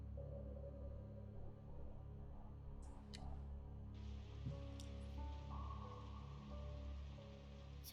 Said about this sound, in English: It was a rainy evening after school, just like this one.